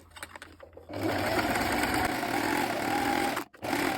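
A sewing machine stitching a seam on a shirt with a backstitch, running in a steady loud whir for about two and a half seconds, then a brief stop and a short restart, close by.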